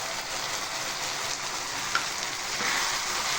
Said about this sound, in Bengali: দিয়ে এটাকে আমি কষাতে থাকবো যতক্ষণ না এর থেকে তেল ছাড়ে